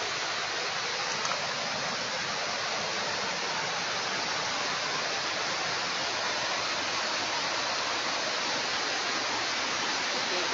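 Steady, loud rush of falling water from the top tier of the Sungai Gabai waterfall, a dense continuous roar filling the whole clip with no voices over it.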